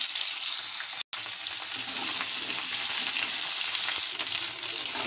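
Small potato pieces frying in a pan, a continuous dense sizzle with occasional stirring taps, close and steady after a brief cut near the start, no voices.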